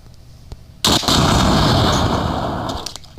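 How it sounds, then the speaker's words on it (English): Gunshot in the video game Withstand Z, a loud, sudden blast that starts abruptly and rolls on for about two seconds before fading, preceded by faint taps. "It's a pretty loud shot."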